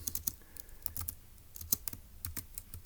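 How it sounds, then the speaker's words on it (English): Steady, close clicking of keys as someone types notes on a computer keyboard, a quick irregular patter of light taps with no voices. "So let's go ahead and type that up in our notes in section B,"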